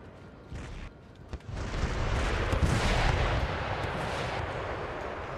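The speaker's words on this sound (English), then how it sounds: "Howitzers attack where they have to lob shells in." Artillery and howitzer fire in Empire: Total War, shells lobbed at buildings: a dense, rumbling barrage of booms building into a sustained roar of distant and near blasts.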